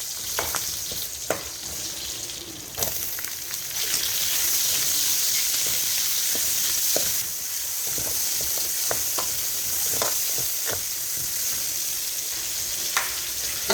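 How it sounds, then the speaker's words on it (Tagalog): Garlic and onion sauté in a generous amount of hot oil for bistek, a bright continuous sizzle with scattered sharp pops and occasional stirring clicks, steady and close throughout with no talking. "Para igisa na natin ang ating bawang at saka sibuyas."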